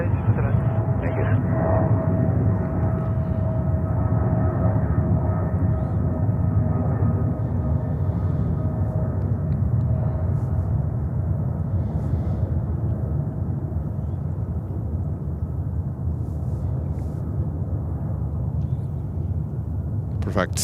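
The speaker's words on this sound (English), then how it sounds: "That was Korean Cargo 777 to Halifax" A Korean Air Cargo Boeing 777 takes off at JFK, its jet engines producing a loud, steady low rumble and roar that sustains throughout and eases slightly toward the end, heard from nearby.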